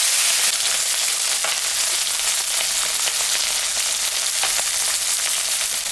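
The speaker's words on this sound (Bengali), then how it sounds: "মাছটা এখন ভাজি।" Tengra fish frying in hot mustard oil, seasoned with salt and turmeric, giving a loud, steady sizzle with crackling spatters throughout, close up and without talk.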